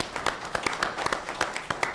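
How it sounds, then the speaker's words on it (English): A council chamber audience applauds, dense scattered hand claps over about two seconds, steady and moderately close, with no voices over it. "Let's give him a hand of applause"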